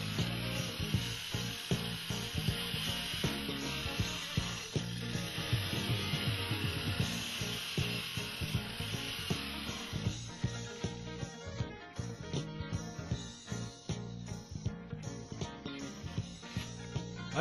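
Wet polishing of a granite edge with a diamond resin pad, a steady sloshing, rubbing wash of water and pad over stone that runs close and continuous with faint rhythmic pulses and no talk.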